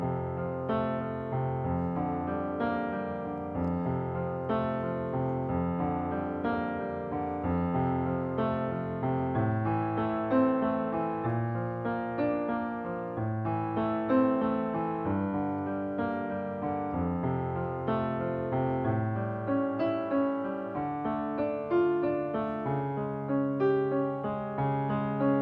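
Piano playing the intro and first verse of a song, a slow, continuous flow of chords and melody, close and even in loudness throughout, with no voices.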